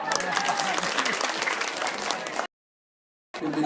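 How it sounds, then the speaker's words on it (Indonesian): Crowd applause at an Indonesian political campaign event for Ahok-Djarot, dense clapping for about two and a half seconds, then a sudden gap of silence before the clapping resumes. "Tepuk tangan dong."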